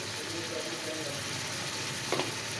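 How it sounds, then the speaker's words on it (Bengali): Garam masala, turmeric and salt fry in a hot pan with a steady, dense sizzle throughout, plus a brief scrape of stirring near the end. "হ্যাঁ, এবার ভালো করে কষতে হবে"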